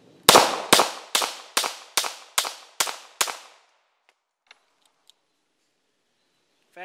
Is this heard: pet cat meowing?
no